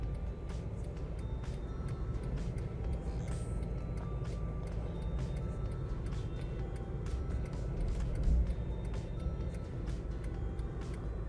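Busy city road traffic in Fortaleza, Brazil: a steady wash of car, truck and bus engines with occasional brake hiss, heard from inside a moving vehicle at a moderate, constant level.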